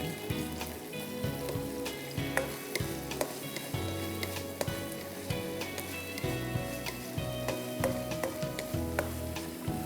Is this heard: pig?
no